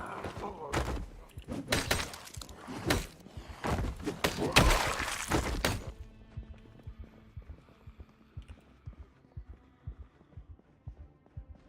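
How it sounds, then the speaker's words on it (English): Zombies pound on a door in a video game, dull repeated thumps that come in a dense, loud cluster, then fade to a soft, steady knocking in the background. "They're banging on the other door too?"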